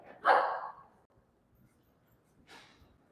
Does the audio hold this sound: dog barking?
yes